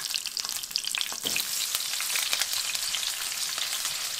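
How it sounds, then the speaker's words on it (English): Onions frying in hot lard in a pan while preparing mole poblano, a steady bright sizzle and crackle throughout with occasional stirring scrapes, close and alone without talk. "that's also a perfect time to start frying up your onions."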